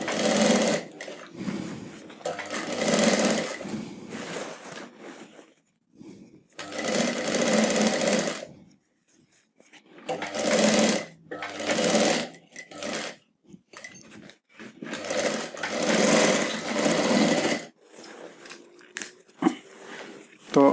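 A sewing machine stitching a hidden zip onto a skirt, running in several long whirring bursts separated by short pauses, close and loud, with faint handling noises in the gaps.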